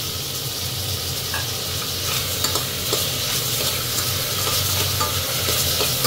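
Tomatoes sauté in a hot pan with a constant close sizzle, while a spoon stirs them with soft, repeated scraping taps.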